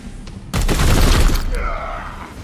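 A burst of gunfire from a Grey Knights battle in a video game: a loud, dense volley that erupts suddenly, rolls on for about a second and then trails off into a fading rumble.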